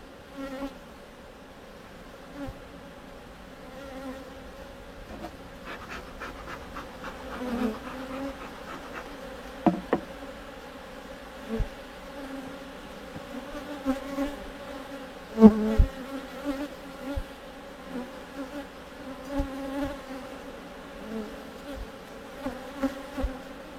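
Honeybees buzz steadily during a hive inspection, a close, continuous hum with a few louder passes as individual bees fly near, alongside faint handling knocks.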